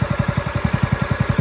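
A Craftsman LT1000 lawn tractor engine idles close by, a steady low chugging pulse of about ten firing beats per second with light mechanical clatter and no voices.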